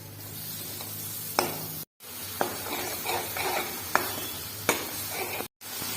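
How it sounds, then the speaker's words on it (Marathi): Masala spices are sautéed in a pan for a prawn curry, a close, soft sizzle broken by several sharp spoon scrapes and knocks against the pan, with two brief gaps of silence. "असं इथं आपला मसाला परतून झालेला आहे"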